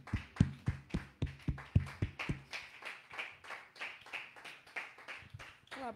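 A church congregation claps in quick, loud rhythmic bursts for a couple of seconds, then the claps soften into a continuous patter of scattered hand claps and voices that runs on to the end.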